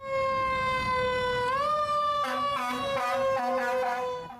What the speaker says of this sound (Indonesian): ini adalah truk pemadam kebakaran